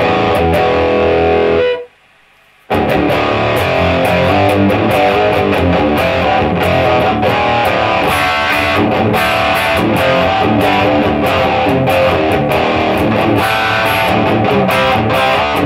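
Electric guitar played through a Boss Super Overdrive pedal, thick gritty distorted chords and riffs at full loudness, with a brief cut to silence near the start before the playing resumes.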